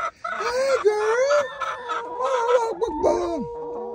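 Hens in a homestead coop cluck and squawk loudly and continuously at close range, with rising and falling calls overlapping across the whole stretch and no human talk.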